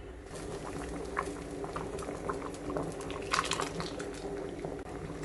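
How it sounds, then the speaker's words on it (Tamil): A pot of sambar bubbles at a steady rolling boil, with continuous dense popping and gurgling up close, no voices present. "ஒரு கொதி கொதிக்கட்டும்"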